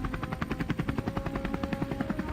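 Helicopter rotor blades throb steadily in a fast, even pulse while guns fire from the aircraft over open plains during a wild boar hunt, loud and close without any voices.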